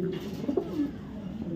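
A female sabji racer pigeon with light-coloured plumage gives a short, soft, low coo close by, one murmuring call with a brief rise in the middle, alone and without talk.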